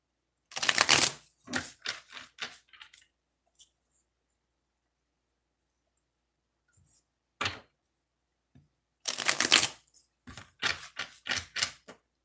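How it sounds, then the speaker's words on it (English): A deck of cards is shuffled twice, each time a loud riffle burst followed by several quick tapping knocks, separated by near silence with a couple of faint clicks, and no voice. "One more shuffle for this deck."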